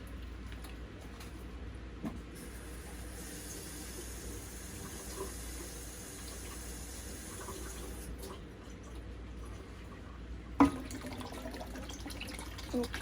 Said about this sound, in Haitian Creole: On va mettre un petit de l'eau.